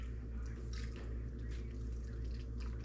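Beer pours into a bowl, a steady close trickle and splash of liquid with light dripping, heard alone and fairly quiet.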